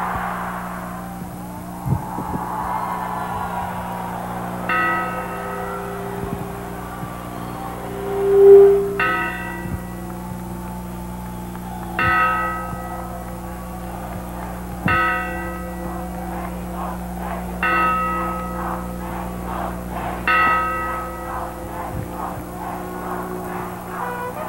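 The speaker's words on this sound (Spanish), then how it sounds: "La réplica de la campana ubicada aquí en Palacio de Gobierno" A replica of the independence bell at the Government Palace in Monterrey tolls slowly and repeatedly during the Grito de Independencia ceremony, ringing strokes spaced a few seconds apart with lingering resonance over a low background hum.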